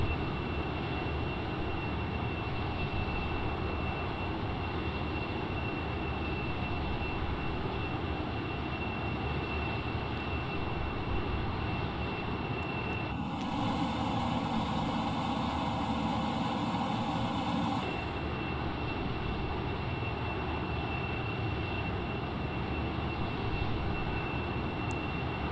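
A small airplane engine drones steadily in flight on the approach to St. Thomas airport, loud and constant throughout, with a brief shift in tone partway through and no talking.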